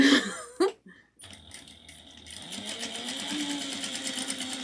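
A domestic sewing machine back stitches through bag fabric, making a close, steady rattling whir that starts after a few soft handling knocks and a brief pause and then keeps running to the end.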